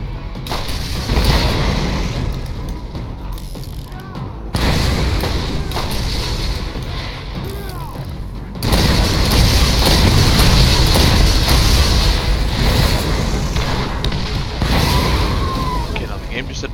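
A rocket launcher in Borderlands fires and explodes in heavy booms and thuds over constant loud game noise. A person talks over the action.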